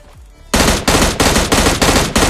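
Automatic gunfire from the mobile battle-royale game PUBG Mobile Lite bursts in after a quiet half second, then keeps going as rapid, evenly spaced volleys of loud close shots.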